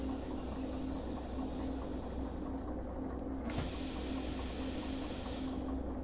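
A locomotive in the Derail Valley train game rolling along the track: a steady, loud mechanical rumble with a sustained tonal hum throughout and a short clank partway through.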